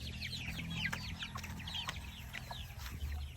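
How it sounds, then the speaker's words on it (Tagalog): Broiler chickens clucking on a backyard farm, a dense chorus of overlapping clucks and chirps over a low steady rumble, moderately close, with no talking. "May broiler chickens din kami."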